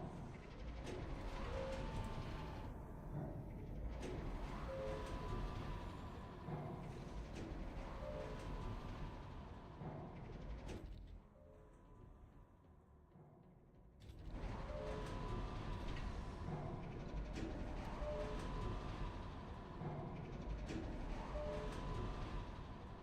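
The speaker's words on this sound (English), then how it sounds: "The noise that elevator makes is just straight up fucking catastrophic." A space elevator in the Mars colony game Surviving Mars makes a loud, grinding mechanical racket with rattling, ratchet-like clatter. It runs steadily, drops to a quieter hum for a few seconds, then returns at full strength.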